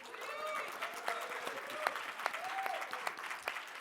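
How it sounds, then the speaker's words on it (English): A moderate crowd applauds at a panel event, a steady bed of clapping with a few whoops and voices calling out over it. "Big round of applause for Reggie."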